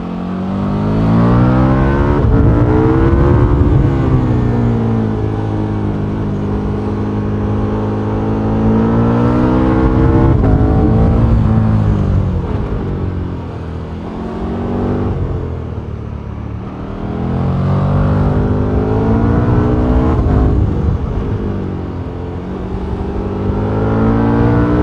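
A 2024 KTM 1390 Super Duke R EVO motorcycle fitted with an Akrapovic exhaust, its engine loud and close, rising and falling through repeated revs and accelerations with a deep harmonic growl on country roads.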